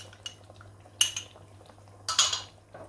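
A spoon stirs salt, red chili, dried coriander, garam masala and turmeric into mung dal batter in a bowl, giving two brief bursts of scraping clinks over a low steady hum.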